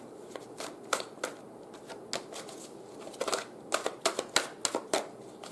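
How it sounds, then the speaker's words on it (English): Close-up riffle of a sticky deck of cards being shuffled, a string of sharp flutters that speeds into a rapid burst near the end. "I said the cards are sticky, and here I am shuffling this way again."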